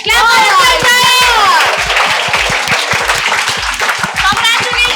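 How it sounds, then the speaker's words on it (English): A group claps in appreciation for Utkarsh at a felicitation ceremony, a steady burst of close, loud hand claps lasting throughout, with voices cheering over the start. "Clap for Utkarsh, guys."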